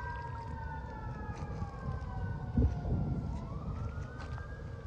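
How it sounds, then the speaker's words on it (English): Emergency vehicle siren wailing in the distance, rising and falling tones drifting over steady outdoor traffic rumble, faint against the background. "Hear the sirens. Siren going now."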